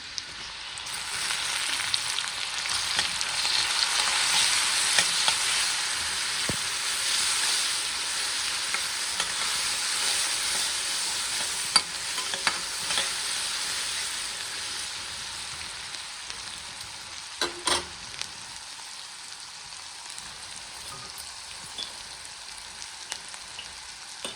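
Green chilies, cumin and salt frying in a pan, giving a continuous, even sizzle with occasional soft stirring scrapes and a few sharper taps near the end.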